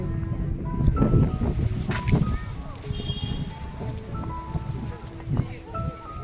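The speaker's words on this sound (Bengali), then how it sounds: "রোদ যেরকম রয়েছে সেই রকম প্রচণ্ড হাওয়াও রয়েছে।" Strong wind gusting outdoors near Edinburgh among swaying flowers, a loud, steady rumble with buffeting bursts over the microphone, while a person talks throughout.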